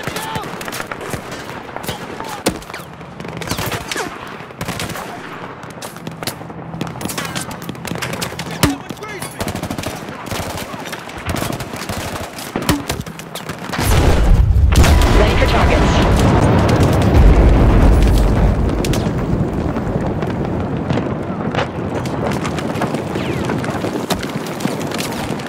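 Battlefield 4 gunfire: rapid automatic weapon bursts with booming impacts, sustained and loud, swelling heavier midway, with a voice speaking over parts of it.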